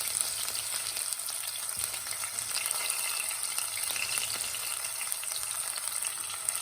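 Onions, ginger and garlic fry in a pan for mutton curry. The sizzle is soft and continuous, with faint crackles and occasional light stirring scrapes, and no talking.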